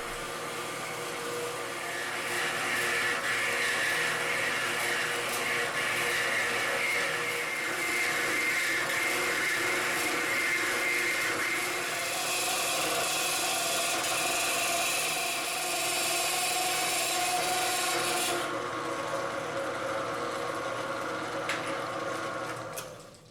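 Steel stock being cut down by a couple of inches in a home workshop, a steady, continuous grinding-rasp of metal cutting that runs loud and unbroken for about eighteen seconds before the high edge drops away near the end.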